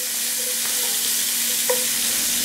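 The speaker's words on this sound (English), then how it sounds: "I'm gonna add my onions" Big-cut onions sizzle in lamb fat in a pot, a steady close hiss with a couple of faint stirring knocks and no voices.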